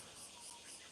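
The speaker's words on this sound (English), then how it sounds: "It's this cloying cicada." A continuous high-pitched cicada whir, faint and unbroken, fills the whole moment with no other sounds.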